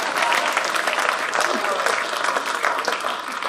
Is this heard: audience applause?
yes